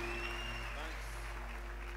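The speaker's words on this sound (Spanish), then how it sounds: "Give the Lord a clap offering." A church convention congregation claps as an offering of praise. The steady, dense applause sounds under a sustained musical drone, and a voice speaks over it.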